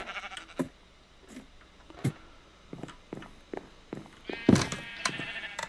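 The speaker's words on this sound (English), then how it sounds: "In this house I have my sheep farm at the top," Sheep on a Minecraft farm bleat in short, separate calls spread across the span, a few louder and closer, with soft game footsteps and thumps between them.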